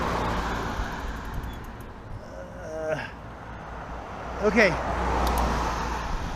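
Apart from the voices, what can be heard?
cars passing on the road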